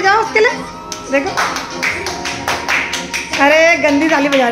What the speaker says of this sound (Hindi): तुम लोग ताली बजाओ उसके लिए